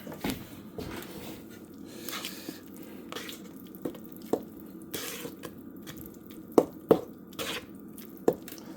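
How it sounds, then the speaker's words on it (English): Orange juice concentrate and other wet cake ingredients pour into a mixing bowl, giving a soft, continuous liquid splash with occasional sharper drips and clinks near the end, close up and without talk. "Pour the rest of my wet ingredients into it."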